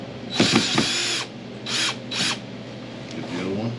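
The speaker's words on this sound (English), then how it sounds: "push hard on that drill" A power drill drives screws into a ski to mount Tyrolia or Marker bindings, whirring close and loud in several bursts with a ratcheting, grinding tone as it bites into the ski.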